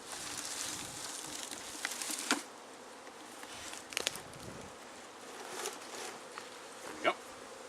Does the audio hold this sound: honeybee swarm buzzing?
yes